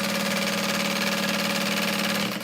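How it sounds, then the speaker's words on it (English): A sewing machine stitching along the bottom of waterproof canvas with a stitch length around 4 to 4.5, a steady rapid mechanical whirring hum running continuously and close, easing off at the very end. "Sewing along that bottom."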